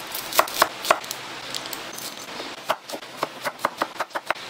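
A knife chops red onion on a board in quick sharp knocks, first a short burst of three, then a faster run of about ten close, crisp strikes with no talking.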